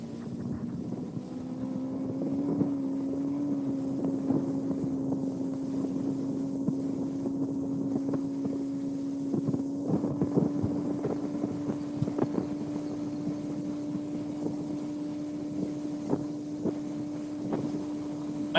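A motorboat engine drones steadily at a constant pitch while crossing a windy river, with water slapping and thumping against the hull and wind noise throughout.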